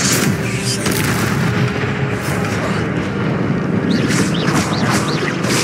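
Incendio fire spell blast in Hogwarts Legacy, a loud, continuous roaring whoosh of flame with booming rumble underneath, sustained throughout with no talk.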